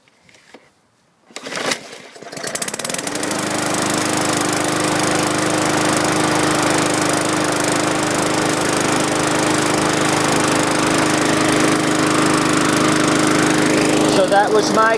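A Craftsman or Toro recycler walk-behind lawn mower engine fires after a few quiet seconds of fumbling and then runs steadily and loudly at a constant drone through to the end.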